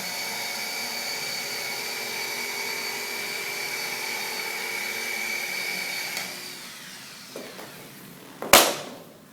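A rotary buffer spins against car paint at low RPM with light pressure, giving a steady whining hum that fades out and ends with a sharp clunk as the polisher stops.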